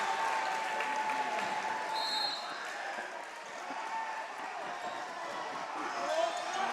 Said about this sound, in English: And the crowd letting them hear it.